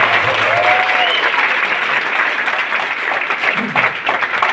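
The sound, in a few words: applause for Santosh ji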